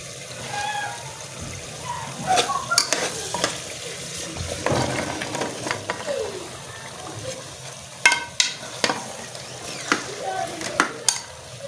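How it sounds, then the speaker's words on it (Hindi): Potatoes tipped into a pan of frying green beans bring a clattering drop and a rising sizzle, then scattered spoon scrapes and knocks over a steady fry. "अब इसके अंदर आलू डालूंगी"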